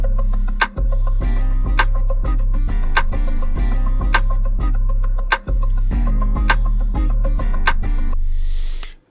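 A trap-leaning beat with rim clicks, booming 808 bass, a guitar loop, a tom loop and acoustic live drums, all bouncing in a steady repeating groove, loud and dense with sharp percussive hits throughout.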